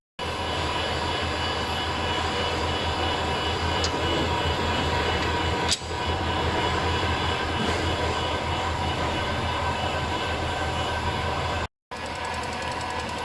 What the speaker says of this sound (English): We're going to put those hubs in the lathe, and we're going to machine them off